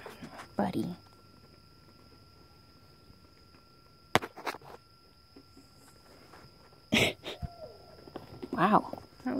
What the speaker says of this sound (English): That was quite an owl.